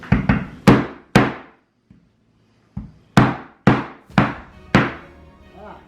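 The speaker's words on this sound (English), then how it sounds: "This is a heavy hammer, but this will maybe crackle it up a little bit more." A heavy hammer strikes a dinosaur dig kit block again and again, with about ten loud, close, ringing thuds in uneven bursts and a short pause midway.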